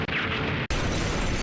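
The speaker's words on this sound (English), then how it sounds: "The impact of the explosion didn't injure Shiori" Anime bomb detonating in a school classroom after being strapped to a girl's chest: a short noisy lead-in cuts off, then a sudden loud, broad explosive blast hangs on as a sustained roaring rumble.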